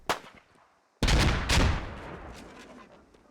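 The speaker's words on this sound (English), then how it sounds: "Oh, grenades being thrown now." Grenades explode in the video game Squad: a sharp crack first, then after a pause a loud blast followed by a second burst. The rumble echoes and slowly decays with no voices.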